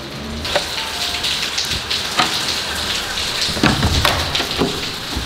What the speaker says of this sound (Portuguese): mas tá chovendo muito.